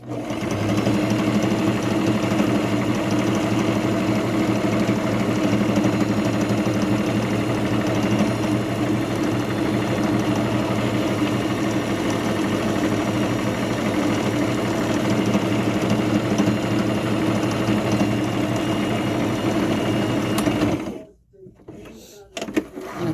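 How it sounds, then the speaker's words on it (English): Sewing machine stitching steadily around a fabric burial cocoon for a baby, a loud, even motor whir with rapid needle chatter for about twenty seconds, then stopping abruptly. "we are going to sew all the way around."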